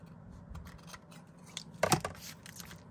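Scissors cut through card on a wonky card house, a short crisp snip rising near the middle of a quiet stretch with soft rustling around it, close and fairly clear.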